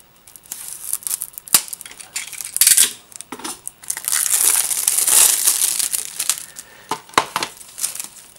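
A plastic shrink-wrap seal on a PS4 game case for Dragon Quest Builders is snipped and peeled away, producing close crinkling, crackling and tearing sounds with a few sharp clicks, loud and alone.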